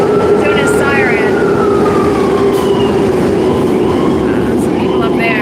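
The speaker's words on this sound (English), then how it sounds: "we have an ambulance that just keeps, like, doing a siren" An ambulance siren wails steadily in the distance on a busy Kensington Avenue street in Philadelphia, partly buried under constant traffic and city noise.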